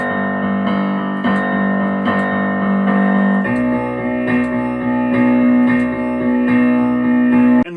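Piano playing the chorus of a song in driving eighth notes with accents in the left hand, with sustained sonorous chords held close and loud, shifting to a new chord partway through, and no talking.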